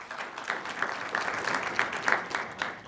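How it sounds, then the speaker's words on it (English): Audience at a community history event applauding themselves, a moderate, fairly distant patter of clapping heard throughout with a few louder bursts and no talk. "So you should give yourselves a hand clap"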